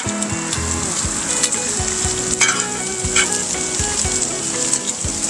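Bacon fries on a flat-top griddle, a loud dense crackling sizzle running continuously with scattered pops and spatters, close by and without voices.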